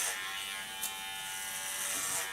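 An electric hair clipper gives a faint, steady, close buzz while it shears hair for a buzz cut, with a brief click partway through.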